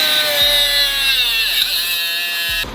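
Stainless steel braided fuel line for a car, clamped in a vice, is cut as straight as possible, giving a steady, loud, high-pitched whine that dips briefly before stopping abruptly near the end.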